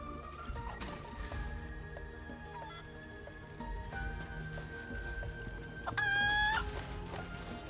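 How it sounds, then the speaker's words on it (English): A chicken clucks in Final Fantasy 7 Rebirth, short faint calls scattered over quiet game ambience, with a louder chirpy burst near the end. "Only a chicken."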